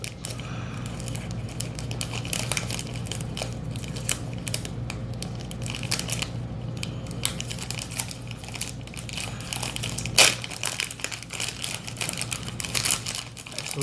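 Small silver plastic packaging crinkles and crackles close up as it is handled and opened. The irregular rustles continue throughout at a moderate level, with one sharper snap near the end.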